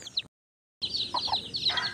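Hen clucks and soft chick peeping calls come in short bursts after a brief silence, close by in a forest, with no talking.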